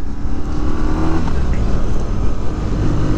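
A 2022 BMW R nineT's 1170cc boxer engine breathes through an Akrapovic dual exhaust, giving a loud, steady, deep rumble with slight rises in revs that holds for the whole stretch, with no talking.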